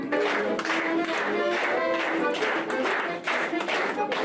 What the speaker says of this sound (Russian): аплодисменты для победителей